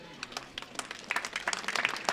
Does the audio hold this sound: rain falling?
no